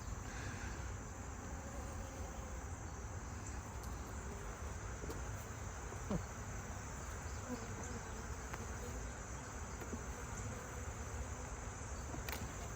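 Honeybees drone in a continuous, even buzz during an open hive inspection, a dense steady hum close by with occasional faint ticks and no talking.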